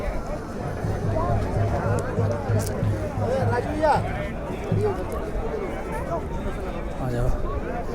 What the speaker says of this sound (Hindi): देखिए चारों तरफ श्रद्धालुओं की भीड़